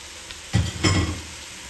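Peppers and Italian sausage fry in a pot for lasagna soup, giving two brief bursts of sizzling with low thumps, close and moderately loud, then a quiet simmer.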